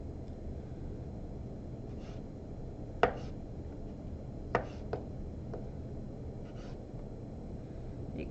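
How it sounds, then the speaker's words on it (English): A knife cuts halved Kalamata olives into quarters on a board, giving a few sparse, soft taps and clicks over a steady low background hum. "These are already cut in half, so I just need to cut them in half one more time."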